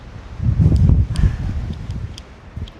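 Wind gusting along a city street on Davenport in Toronto, buffeting the microphone with low rumbling bursts that swell early and ease off, with faint traffic or footstep sounds beneath.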